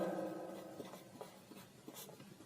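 Pen or chalk writing on a board during a math lesson on the Pythagorean theorem: soft, close scratching strokes in short irregular bursts, quiet and unaccompanied by speech.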